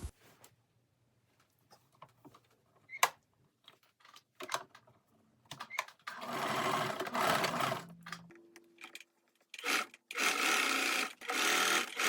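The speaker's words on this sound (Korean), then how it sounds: "목둘레의 시접선을 따라서 박음질을 해줍니다." Sewing machine stitching along the neckline seam allowance of a one-piece slip dress, heard in two long steady runs with short pauses and quiet handling clicks before them, close and moderately loud with no talk.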